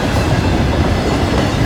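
A freight train rolls past close by as a loud, continuous rumble of wheels and cars. The roar holds steady and nothing else is heard.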